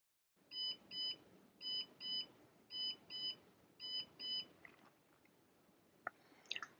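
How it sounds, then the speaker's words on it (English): Close electronic beeps from a bone-smoothing machine sound in paired bursts, four pairs in a steady rhythm, followed by a few faint clicks and handling noises. "the machine will beep again to let you know that it's safe to open."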